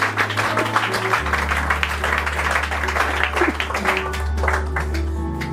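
A church congregation at a worship gathering claps continuously and loudly, with voices and a low sustained hum running underneath throughout.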